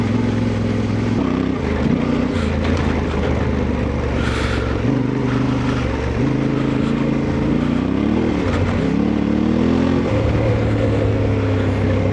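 Off-road 4x4 cars drive past with a steady, fairly loud engine drone and shifting revs, a brief higher whine rising midway, with no talk over the constant mechanical rumble.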